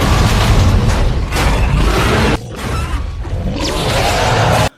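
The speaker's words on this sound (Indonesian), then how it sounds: "membuat sebuah ledakan yang mengakibatkan semua listrik mati total" A giant monster in a film triggers an explosion, heard as loud, booming blasts and crashing rumbles with a sharp cut partway through and a second heavy surge before ending abruptly.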